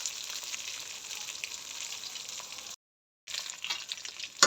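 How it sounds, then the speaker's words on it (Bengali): Catla fish pieces sizzle and crackle steadily in hot oil in a pan, a close, moderately quiet frying hiss that cuts out for a moment and then resumes. "মাছগুলো কত লাল লাল করে ভেজে নিচ্ছি আমি"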